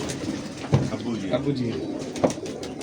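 Pigeon cooing with soft, low murmuring calls and a couple of brief louder notes close by, while someone speaks over it.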